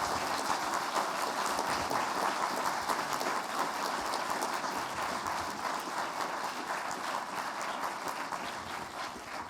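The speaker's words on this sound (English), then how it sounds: "let's give our guest a big round of applause." Steady, dense applause from a lecture audience for a guest speaker at a book talk, loud and continuous from start to finish, easing slightly toward the end, with no talk over it.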